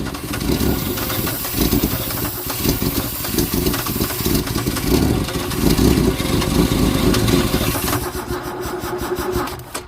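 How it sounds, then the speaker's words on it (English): A Holden EH Ute engine running rough on starting fluid alone, a steady mid-pitched idle with uneven pulsing that holds for the full stretch before dropping away near the end. "it still only seems to be running on the starting fluid"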